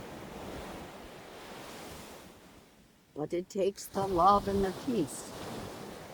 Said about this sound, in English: you can see the crashing of the waves, but you can also see how calm it is.